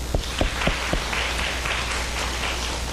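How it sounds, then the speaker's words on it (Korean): A church congregation applauds together after a prayer: a few distinct claps open, then a steady wash of clapping from many hands in a large room, with no talking. "그래서 기도 한번 하고 같이 박수를 한번 치고."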